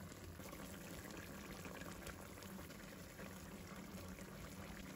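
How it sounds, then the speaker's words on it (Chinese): Starch-thickened sauce for stuffed bitter melon with pork bubbles steadily in a pan over high heat, a faint, even simmering hiss with no talking. "然后把淀粉水放进来勾芡一下，开大火把汤汁收浓收紧"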